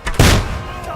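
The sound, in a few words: gunshot in video game Kingdom Come Deliverance 2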